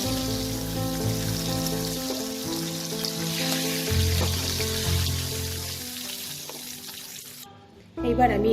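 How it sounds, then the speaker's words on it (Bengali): Slit green chillies fry in hot mustard oil left from frying a hilsa head, a steady close sizzle that fades gradually before a sudden clatter of pan noise at the end. "এবার আমি এই তেলে দুটো কাঁচা লঙ্কা মাঝখান থেকে চিড়ে আমি তেলের মধ্যে দিয়ে দেবো।"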